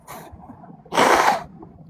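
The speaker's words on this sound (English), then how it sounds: "as I went to go blow my nose" Someone blows their nose once, a forceful, breathy burst lasting about half a second, close by, after a brief faint sniff in an otherwise quiet room.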